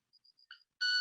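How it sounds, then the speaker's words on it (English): Club-winged manakin wing song made by its wing feathers: three soft, evenly spaced ticks, then a brief buzz, then a loud, sustained, ringing tonal note, all close and clear with no talk. "This bird is singing with its wings"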